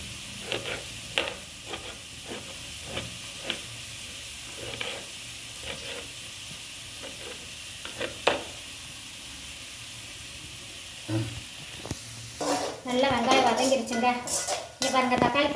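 Onions and tomatoes sautéing in a pan, a continuous sizzle broken by a dozen sharp metal clinks of a spoon stirring and tapping, ending in a louder burst of scraping and clattering against the pan, close and alone without talk.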